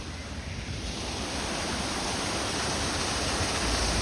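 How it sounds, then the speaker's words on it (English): Rushing water at Disneyland gives a loud, continuous broadband roar, steady throughout and slightly building toward the end. "I love the sound of rushing water."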